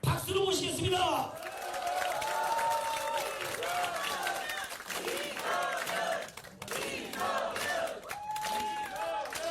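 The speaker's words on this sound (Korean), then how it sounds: "이성윤 의원님을 박수로 모시겠습니다" A crowd at a political talk concert claps and cheers to welcome a lawmaker onstage, with shouts and voices rising over dense applause that dips briefly midway, then swells again.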